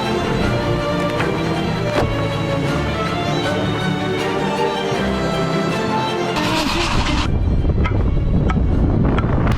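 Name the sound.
sailboat moving fast through water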